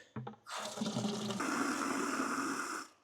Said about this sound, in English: So first thing I'm going to do is put some water in this bucket.